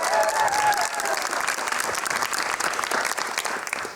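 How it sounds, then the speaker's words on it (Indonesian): University students in a studio audience applaud together, a steady wash of clapping at moderate loudness that holds for the whole stretch, with a faint tone near the start. "Boleh tepuk tangan buat kalian semua mahasiswa-mahasiswa"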